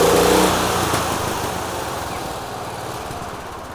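A homemade race lawn mower with a leaking oil pan gasket runs close by, its small engine chugging loudly before easing into a steady lower idle rumble.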